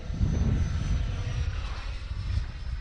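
An E-flite F-16 Thunderbird RC model jet flies overhead on its maiden flight, producing a steady whooshing whine of its ducted fan that holds fairly loud and constant, drifting slightly as it passes.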